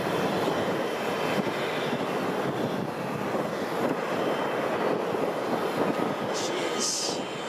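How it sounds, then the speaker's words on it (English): A McDonnell Douglas MD-11 jet flies overhead near King County International Airport, Boeing Field, giving a loud, sustained roar that stays strong throughout with a steady broadband rumble. "Is that the MD-11 over the top of me?"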